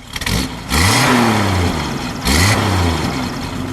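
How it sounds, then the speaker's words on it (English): Two quick throttle blips from a 1955 Willys Jeep Utility Wagon engine, each rising and falling in pitch over its idle, loud and close with no voices. "Give it a rev, Rev."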